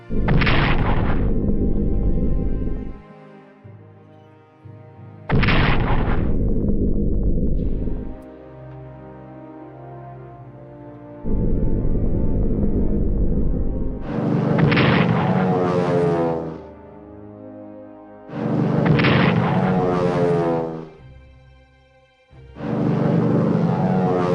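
Artillery in the Strategic Command WWI strategy game fires in heavy booming blasts, five loud explosions spaced a few seconds apart, each with a long rumbling decay, no talking.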